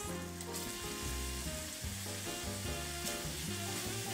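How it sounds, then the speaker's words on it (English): Bacon and onions sauté together in a pan, giving a close, steady sizzle and crackle throughout with a low hum underneath and no speech. "now we're going to let the bacon and the onions saute till the onions are translucent"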